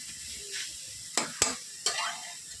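Potato being stirred into a vegetable mixture frying in a pan for vegetable chops, with a steady soft sizzle and a few sharp scraping strokes of the spatula, close and without talk.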